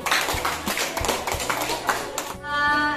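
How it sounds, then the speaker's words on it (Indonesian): A primary school class claps for a group after their project, with quick scattered handclaps in uneven bursts, close and fairly loud, ending in a brief tonal sound. "Beri tepuk tangan untuk kelompok 1"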